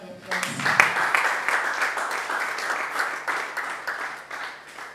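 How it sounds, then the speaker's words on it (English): An audience at an innovation and creativity fair breaks into dense, sustained applause, many hands clapping together at a steady level before tapering off slightly at the end. "Can we give her another round of applause?"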